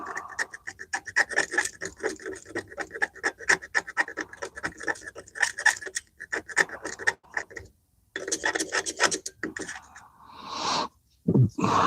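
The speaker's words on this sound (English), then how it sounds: "a little scratchy scratch at that little black spot at the bottom" A tool scratches and rasps at a black spot on the bottom of a Harley-Davidson Sportster carburetor, making rapid repeated strokes up close that stop briefly and then resume.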